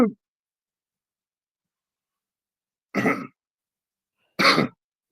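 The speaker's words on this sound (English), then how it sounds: "I coughed." Two short, harsh coughs from a person close by, about one and a half seconds apart, each standing alone against silence.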